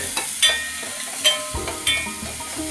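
Onions and dry red chillies fry in a pan for quinoa dal khichdi, giving a steady sizzle broken by several sharp scrapes and knocks of stirring.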